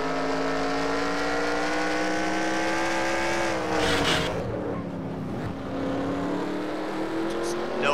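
Stock cars in a Nashville race of a racing video game roar past in a pack, their engines whining steadily and shifting pitch as one car drops back, under a commentator's voice.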